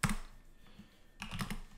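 Fingers type on a computer keyboard while a command-line setup is done, with quiet clustered key clicks in two short bursts split by a brief pause, close and faint.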